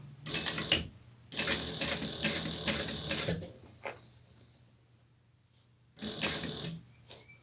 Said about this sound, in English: I'm going to backstitch just a little bit, not crazy though.